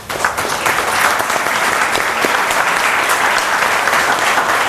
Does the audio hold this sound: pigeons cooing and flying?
no